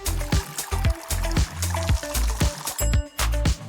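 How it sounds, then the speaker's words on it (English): Water pours into a container while papercraft cartoon figures are set up for a meal; short trickling bursts repeat in a steady rhythm over busy background music and sound effects. "Fill it up with water."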